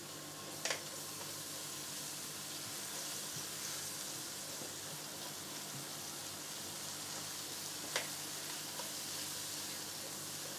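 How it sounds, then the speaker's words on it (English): Chicken liver smoortjie sizzles faintly in a pan as turmeric powder is stirred in, a soft steady frying hiss with a couple of brief utensil scrapes. "It's about a teaspoon and a half of my turmeric powder. Okay, let's stir this in."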